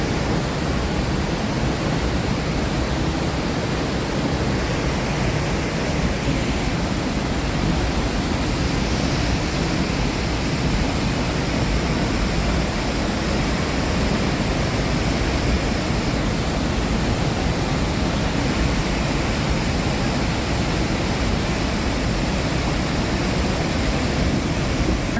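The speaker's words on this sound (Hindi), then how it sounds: "अभी हम लोग आए हैं कोलटेम्बे वाटरफॉल और इसका नज़ारा देखिए।" Koltembe waterfall at Bhandardara roars in a steady, dense broadband wash that stays loud and unbroken throughout, with no voices over it.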